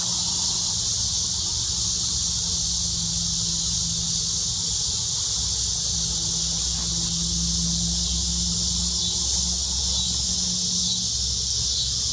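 Honeybees drone at an open hive during a beekeeping inspection, a steady low hum that wavers slightly in pitch, with a constant high hiss of outdoor insects behind it. No talking.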